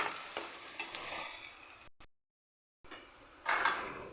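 Chana dal roasts in a pan with a soft, faint crackle and occasional spoon scrapes, briefly cutting to silence before the gentle sizzling resumes.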